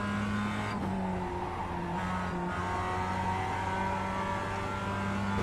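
A Mazda MX-5 Cup race car in iRacing at Okayama International Circuit holds a steady, loud engine drone with small pitch shifts as the throttle changes, continuous throughout, with no speech.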